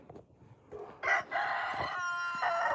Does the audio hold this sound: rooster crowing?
yes